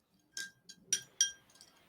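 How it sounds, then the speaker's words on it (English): A few light, faint glassy clinks, about four separate taps spaced irregularly over a quiet background, with no talking. "There's like a clinking sound."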